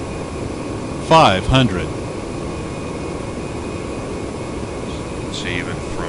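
A Citation X business jet on approach with gear and flaps down, engines giving a steady broadband jet hum and whine at low throttle, with brief speech-like bursts over it.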